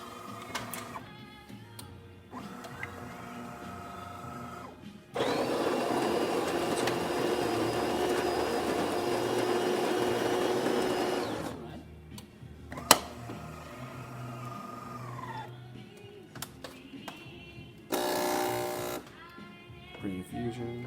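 A DeLonghi espresso machine, just serviced for slow coffee flow, pulls a test shot: a steady pump drone runs for several seconds and then stops, followed by quieter clicks and a second short burst of pump noise, with no talking.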